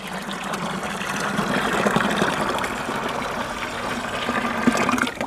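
Rice water pours and splashes steadily into a liquid organic fertilizer mix, a continuous close trickling and gurgling that runs throughout without speech.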